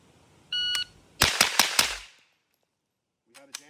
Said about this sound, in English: when it goes, we're gonna fire 6 rounds on target